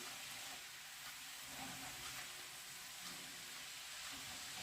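Young cabbage with onion and carrot sizzles steadily in a frying pan, a soft continuous hiss with faint stirring, heard alone and fairly quiet.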